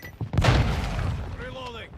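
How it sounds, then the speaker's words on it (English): Molotov cocktail thrown in Call of Duty Modern Warfare II: a deep boom with a crackling whoosh of flame that rolls on for over a second, with a voice heard over it. "Throwing Molotov!"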